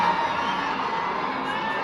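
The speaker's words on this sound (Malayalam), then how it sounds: "ആർപ്പുവിളികളോടെ കാണികൾ സൂപ്പർ സ്റ്റാർ രജനിയെയും മലയാളികളുടെ സൗബിൻ ഷാഹിറിനെയും വരവേറ്റു." Theatre crowd cheering and whooping for the Rajinikanth film Coolie at a packed late-night screening in the Gulf, a loud, dense, continuous roar of many voices with no single speaker standing out.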